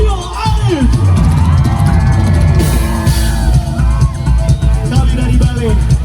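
A large concert crowd at a live festival show cheers, yells and whoops loudly for the drummer, a dense continuous roar of voices with bright musical tones ringing through and no clear pauses.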